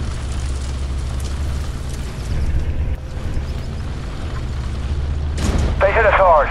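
A tank taking shell fire in the video game Armored Warfare: a deep rumbling engine drone, then heavy impact booms near the end, with radio-style voices talking over it.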